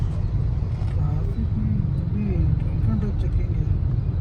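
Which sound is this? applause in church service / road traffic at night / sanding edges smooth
road traffic at night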